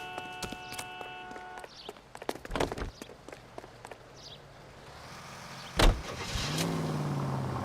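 Car in the LA Noire video game, started up and driven off in a hurry during a chase, its engine rising to a steady drone after a door-like thump, with scattered footsteps and clatter beforehand.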